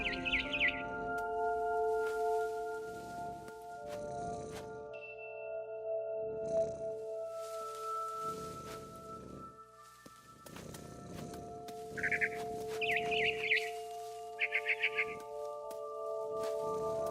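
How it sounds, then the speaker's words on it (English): A barn swallow chirps in the video game What Remains of Edith Finch, brief high twittering bursts over soft game music and a low purring sound, mostly near the end of the passage. "Then I heard chirping outside my window. It was a barn swallow going back to her nest."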